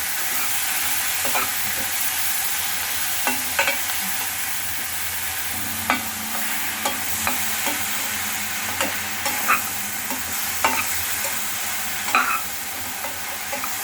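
Ginger and tomato for chutney sautéing with salt in a pan, a loud steady frying hiss with irregular spoon scrapes and clicks recurring every second or two, close by and without talk.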